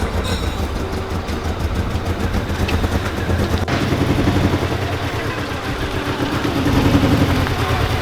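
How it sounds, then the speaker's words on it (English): An old Mini Cooper R50 engine idles roughly up close, a low uneven rumble with a faint rattle, steady for several seconds with a slight surge near the end. "the engine sounds so"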